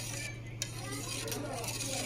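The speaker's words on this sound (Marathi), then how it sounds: "आता मस्त जरास हलवून घ्यायचं आहे आपल्याला, एकजीव करायचं आहे" A spoon stirs spiced buttermilk (masala tak) in a vessel, a soft steady swishing with a faint clink, over a low background hum.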